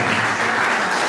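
Loud, dense applause from an audience at a Romanian cultural centre's autumn event, a continuous burst of clapping without speech.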